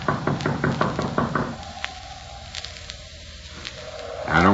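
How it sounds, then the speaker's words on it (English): A rapid series of about seven knocks on a door, a radio drama sound effect from 1944 old-time radio, loud and close, followed by a quiet pause and a faint muffled sound. "I reckon it won't hurt nothing to tap on the door sort of gentle."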